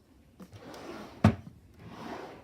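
A drawer in a craft room slides open with a single sharp knock partway through, set against a quiet room.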